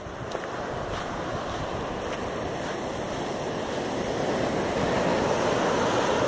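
Surf breaks steadily at Praia do Estaleirinho in Balneário Camboriú, Santa Catarina, a continuous broad roar of waves with wind buffeting the microphone and no voices.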